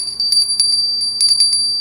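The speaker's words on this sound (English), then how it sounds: "because the bell don't ring right away" A small bell is rung indoors in quick bursts, giving several bright, clear dings in uneven clusters close to the listener.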